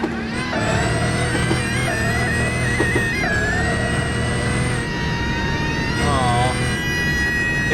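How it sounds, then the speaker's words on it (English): A wailing emergency vehicle siren in the BeamNG driving game, rising and falling over a steady loud engine drone, close and continuous throughout. "Oh, siren."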